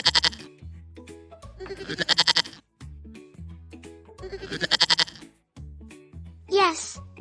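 A sheep on a farm gives several loud, wavering bleats close by, in separate bursts with short pauses between them.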